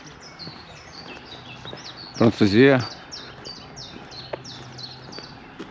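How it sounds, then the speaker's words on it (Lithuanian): Birds chirp and tweet in repeated quick bursts during early morning at a campsite in Obernai, France, lively and fairly close, with someone briefly speaking partway through. "Paukščiai čiulba iš pačio ryto. Labai garsiai."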